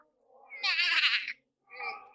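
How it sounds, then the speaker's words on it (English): A cat gives a drawn-out, high meow, then a shorter second meow after a brief pause, close and clear. "Meow, meow."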